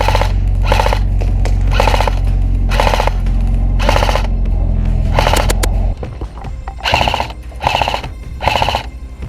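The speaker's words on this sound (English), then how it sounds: "I manned the Mg42 to try and take those enemy players out" An airsoft MG42 machine gun fires in sharp, rapid bursts, about nine in a row with short pauses between them, loud and close, over a low motor hum that drops away midway.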